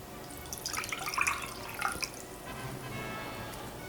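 Water poured out of a hydrometer jar, a brief run of soft splashing and dripping, fairly quiet and close, then fading to a faint trickle.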